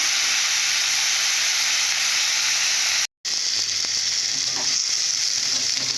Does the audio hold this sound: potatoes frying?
yes